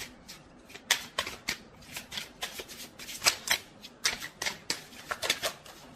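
Tarot cards being shuffled and drawn from the deck, a quick run of crisp riffling bursts and snaps at close range, repeating irregularly without talk.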